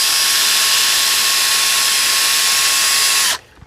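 A power drill spins a cut-down wire brush used to clean a wheel hub, a loud steady high whine with gritty scrubbing that runs unbroken for over three seconds before stopping abruptly.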